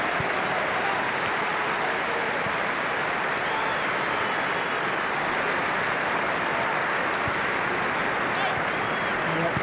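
A big stadium crowd applauds at a Manchester United testimonial football match as players warm up, a steady roar of distant clapping and crowd noise that fills the whole stretch without a break.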